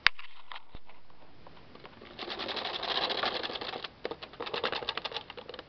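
A Bond knitting machine carriage is pushed across a row, giving a sharp initial click followed by a rising rapid mechanical clatter of needles that pulses and ebbs, close and fairly loud, with no talk.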